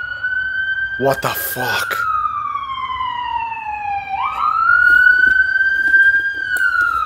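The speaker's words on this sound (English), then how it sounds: "Fire department came." Fire engine siren wailing near a garage where a Toyota Supra sits, a long sweeping tone that falls then rises again, loud and steady throughout, with a brief exclaimed voice early on.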